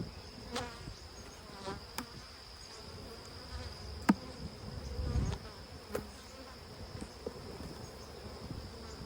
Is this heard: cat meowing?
no